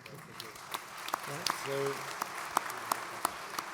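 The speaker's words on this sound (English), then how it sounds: "So if you could all give them a round of applause." Audience applause for a panel at the close of a testing automation discussion, a steady patter of clapping with a few sharper claps, heard under and around a voice.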